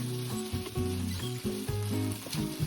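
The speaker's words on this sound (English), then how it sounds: "That sizzling sound, that's flavor being born." Pork spread in a hot pan sizzles steadily for kimchi udon stir fry, a soft continuous crackle with rhythmic stirring and scraping pulses, fairly quiet, with no talking.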